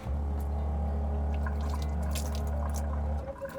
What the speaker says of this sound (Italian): Ora vi faccio vedere come esce l'acqua.